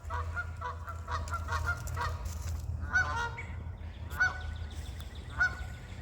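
Geese honk repeatedly during an outdoor walk, a flock calling in quick bursts close by over a steady low background rumble.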